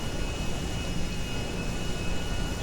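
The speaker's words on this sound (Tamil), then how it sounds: "ஃபஸ்ட்டு இந்த ஏரோப்ளைனை ஓட்டி காமிக்கிறேன்." Airplane flying in the GTA 5 video game: a constant, loud engine roar with a jet-like hiss, steady and unbroken for a few seconds, with no voices.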